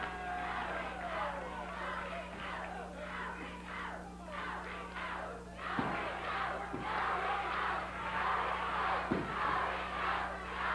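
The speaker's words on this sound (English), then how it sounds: "Crowd cheering Rick Morton on" Wrestling crowd cheering and chanting for wrestler Rick Morton, a sustained roar of many voices with rhythmic surges and a few sharp thuds, heard from inside the arena under a low constant hum.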